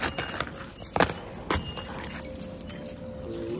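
Keys jangle in a few brief metallic bursts close by at a casual birthday gathering, with some background noise.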